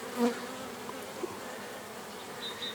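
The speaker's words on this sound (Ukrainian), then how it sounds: "щоб не заважати прильоту бджоли" Honeybees buzz faintly as they fly in to the hive, a low hum with a brief louder buzz as one flies close.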